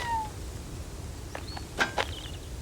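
A tabby kitten gives a couple of short, high meows near the end, over a quiet indoor background. There are some faint soft thuds.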